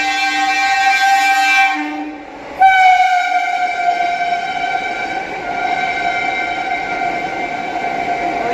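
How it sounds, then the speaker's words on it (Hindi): Vande Bharat train sounding a loud, sustained horn while overtaking a special train at Tundla Junction, one blast breaking off and a second long tonal blast following, close and dominant over rail rumble. "ये वंदे भारत ओवरटेक कर रही है भाई टूंडला जंक्शन पे।"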